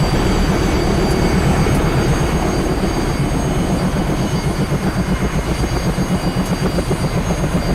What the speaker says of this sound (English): APU spooling down.